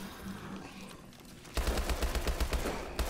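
Rapid bursts of AK rifle fire in the zombie mode of Call of Duty: Advanced Warfare, a steady fast rhythm of loud close shots starting about halfway through after quieter game ambience.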